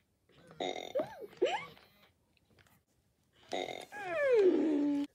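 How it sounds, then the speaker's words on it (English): An interactive FurReal Friends Cinnamon toy pony gives loud electronic belching sounds, a couple of short gurgling burps followed by a longer drawn-out belch after a brief pause. "It's making lots of belching sounds like it's had too much apple and it doesn't want any more."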